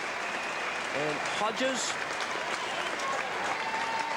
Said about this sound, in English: A big round of applause for Timmy Ginniver, who was brilliant today.